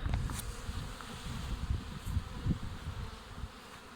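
Honeybees fly around a hive on a warm day, a continuous low buzzing hum with individual bees passing close by, steady and moderately quiet, without speech.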